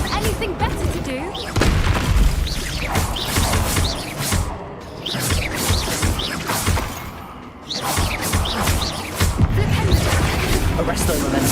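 Bombarda blasting spell explosions in Hogwarts Legacy, with loud booms, crashes and smashing impacts in a busy, dense fight that carries on steadily, while voices talk over it.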